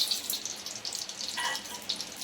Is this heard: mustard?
yes